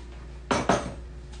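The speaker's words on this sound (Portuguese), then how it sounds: "Mano, já lavei os copos, agora eu tô na colher de pau." Glasses and dishes clatter in a kitchen sink during washing-up, two sharp close clinks of glass and crockery standing out against faint running background noise.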